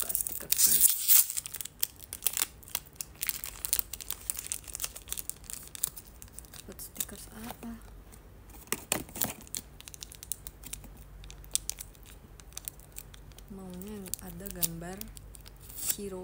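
Sticker packets are torn open and crinkled by hand during a casual live chat stream, giving sharp ripping bursts and rustling, with talking nearby and a brief sung or melodic voice near the end.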